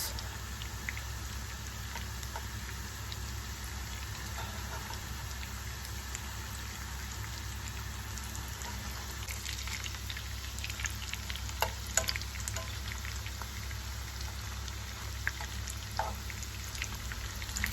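Meatless vegetarian köfte fry in a pan with a steady, fairly close sizzle and crackle, with scattered pops and spatters near the end.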